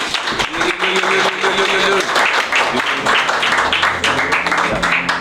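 A crowd claps and applauds continuously, with a voice speaking over the clapping at times.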